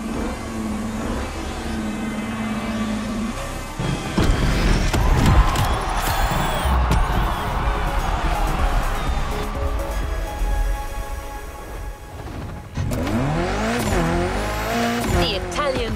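A Lamborghini Terzo Millennio in The Crew Motorfest roars continuously and loudly, its engine note rising and falling through revs, with tire squeal and skidding along the way and a brief drop before the engine surges again near the end.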